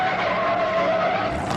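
A race car on the Ontario, California track screeches in a long continuous tire skid as it spins after being slammed from behind, loud and sustained with engine roar underneath.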